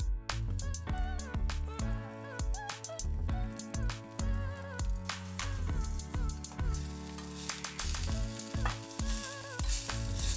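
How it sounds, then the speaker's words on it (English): Fish liver pan-sears in a hot pan, giving a steady, close sizzle and spitting crackle that runs throughout, with music playing over it and no talk. "the liver of the fish, a little bit glazed, and pan-seared and glazed, simple."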